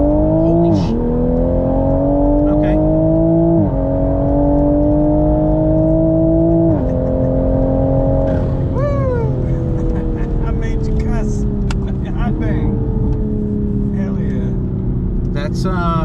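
Tuned Toyota GR Supra with JB4 tune, intake and catted downpipe pulling hard in second gear from about 4,000 RPM, engine pitch climbing through shifts, loud from inside the cabin, with people talking over it.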